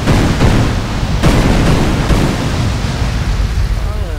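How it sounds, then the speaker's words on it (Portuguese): Explosions and fire effects in GTA San Andreas with an ENB graphics mod, loud booming blasts followed by a dense roaring, crackling rumble that gradually settles. "Novas explosões, ó, novos efeitos do fogo."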